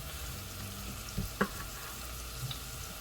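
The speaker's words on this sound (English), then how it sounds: "So right now the oil is getting nice and hot." Oil heating in a soup pot hisses with a steady, moderate broadband sizzle, joined by a few brief clinks or taps, with no voices.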